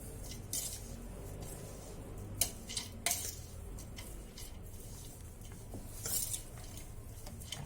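Quiet clinking and scraping of a spoon against a metal pot as grated carrot is mixed with salt and turmeric, with a few sharper taps, over low background hum.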